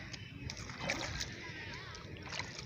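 Water from a running tube well gushes and splashes steadily. The sound is close and continuous, with small sloshing bursts and voices faintly under it.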